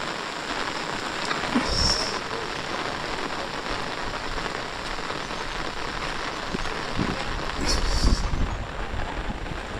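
Steady heavy monsoon rain falls and patters on surfaces of a Konkan village house, a constant hiss with occasional heavier drips and knocks, no voices.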